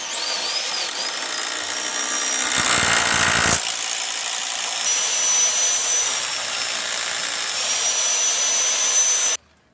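A power drill with an 8mm wood and cement bit bores into a brick wall, a steady loud whine that runs almost the whole clip with a rougher grinding stretch near the start, then stops.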